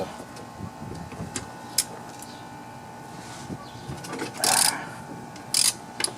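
A 3/8-inch ratchet clicks in short bursts while loosening lawn mower spark plugs during a tune-up, with brief louder metallic clatters near the end over a quiet background.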